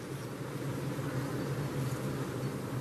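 A hive of bees buzzing near two mobile phones, a faint steady droning hum that continues without pause and without voices.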